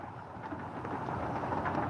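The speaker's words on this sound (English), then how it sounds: "Starting to rain pretty hard up here." Hard rain falls outdoors, a dense, even hiss of drops hitting surfaces that holds steady throughout, close and fairly loud with no voices over it.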